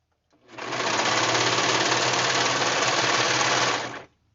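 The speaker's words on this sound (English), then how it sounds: "make sure you're serging only what you want to serge, because once that serger get up in there, it's cutting everything" A serger sewing machine stitching and trimming fabric while pants are tapered, running in one steady loud whir of about three and a half seconds that starts and stops abruptly.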